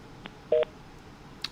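Telephone keypad tones from a line being redialed after a dropped call during a stock consultation broadcast, three or four short beeps spaced unevenly over about a second and a half, close and clear over a quiet background.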